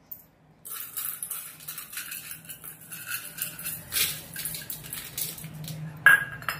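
Chana dal, split chickpeas, is rinsed in a metal vessel in a home kitchen, giving irregular clinks, rattles and splashes in close bursts that stop briefly and then resume.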